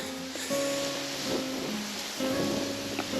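Wind buffets a Lake District mountain path toward Stake Pass, a continuous broad roar that rises and falls in gusts, with some faint tonal hum underneath and no clear voices.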